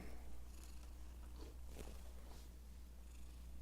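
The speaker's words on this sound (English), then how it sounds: "I'm sure you can hear some purrs right now." A soft, steady cat purr rumbling low and continuous throughout, close by, with faint rustling on top.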